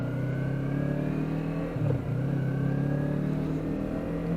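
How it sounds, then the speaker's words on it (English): Motorcycle engine revs steadily while riding on a new sport bike, a Honda CBR650F, CBR500R or Yamaha R3. The tone holds steady and close, with a brief dip and rise near the middle, and no talking. "Engine's got a nice little sound to it."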